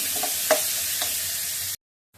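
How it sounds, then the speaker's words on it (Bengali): Steady hissing sizzle of onions frying in a pan, with a couple of faint stirring clicks, before the sound cuts off abruptly. "এই যে পেঁয়াজগুলো ভালো করে ভেজে নিই"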